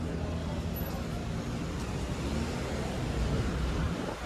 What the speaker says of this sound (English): look at all the traffic here